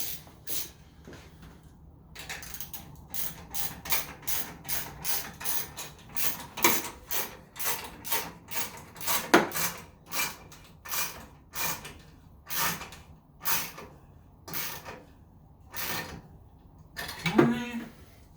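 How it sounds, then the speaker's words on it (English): A silicone coupler clamp on the back of a turbo in an AWD Honda Civic EM2 is tightened with a ratchet, giving rapid bursts of close, crisp clicking separated by short pauses. "So now that I tighten this one, I can tighten the one on the back of the turbo."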